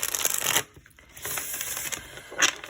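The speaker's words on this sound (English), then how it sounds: "one more shuffle" A deck of tarot cards is shuffled by hand in close, crisp bursts of papery riffling with a short pause in the middle before the shuffling resumes.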